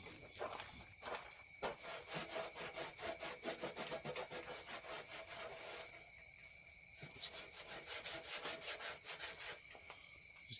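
Rapid back-and-forth wiping as acetone is rubbed over a rusty steel motorcycle gas tank, a rhythmic scratchy swishing with a steady high whine running beneath, close and fairly quiet, no talk.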